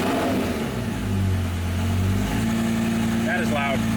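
The engine of a cheap Lamborghini replica fitted with a DIY turbo kit revs loudly up close, rising and falling in pitch, while voices talk over it near the end.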